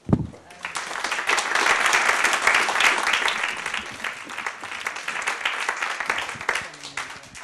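An audience at a philanthropy panel discussion gives the panellists sustained applause, a dense, loud wash of clapping that rises quickly and continues steadily before tapering slightly.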